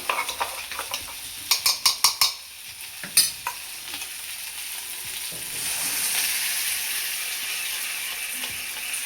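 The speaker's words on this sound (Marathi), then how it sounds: "आणि हा मसाला सुद्धा आता आपल्याला थोडासा परतून घ्यायचा." Drumstick pods and black masala are sautéed in hot oil, a spoon scraping the pan in a quick rhythmic series of strokes early on, then a steady close sizzle with occasional scrapes.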